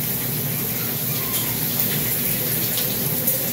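Cooked macaroni water for a bacon mac and cheese is poured through a strainer, giving a loud, continuous gushing splash of water into a sink for a few seconds, with no speech.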